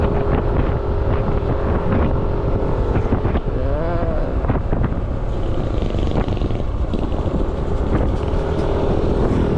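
Strong wind buffets the microphone in a constant roar outdoors in Karanglan, Philippines, with engine rumble and traffic noise running underneath throughout.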